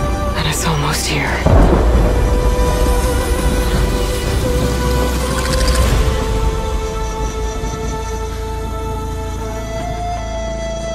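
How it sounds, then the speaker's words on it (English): Thunderstorm in the video game Horizon Forbidden West, with a loud rolling crack of thunder early on and a long rumbling tail over rain, close and heavy, and voices speaking over it. "Said a storm was coming."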